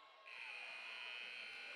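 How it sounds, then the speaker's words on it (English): A loud electronic buzzer blares a steady, sustained tone across a high school varsity basketball gym, ending the first half of an Elsberry Indians versus Warrenton Warriors game, continuing for well over a second. "And that buzzer ends the first half of this ball game."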